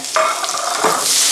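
A loud, close sizzle of shallots stir-frying in a pan over very high heat, with a brief scrape of stirring partway through.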